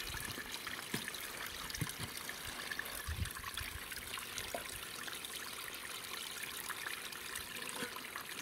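Fresh mountain spring water trickles quietly on an Arizona mountainside, a faint, steady wash with small irregular splashes and no voices.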